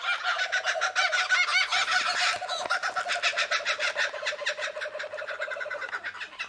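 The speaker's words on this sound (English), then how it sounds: "some of our noisy kookaburras having a laugh" Several kookaburras laugh together in a garden, a loud, continuous chorus of rapid cackling and rolling calls that fades slightly toward the end, with no talking.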